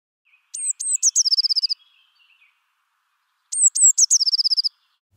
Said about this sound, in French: La mésange bleue